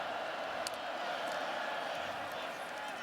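Steady roar of a college football stadium crowd at Rutgers vs. Virginia Tech, a broad sustained murmur with faint shouts, running under a commentator's voice throughout.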